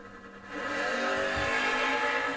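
Drag race cars launching down a racetrack at a creek-side drag strip, heard from a distance as a faint engine roar that swells after a quiet start and holds steady.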